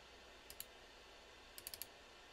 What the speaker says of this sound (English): I double click on it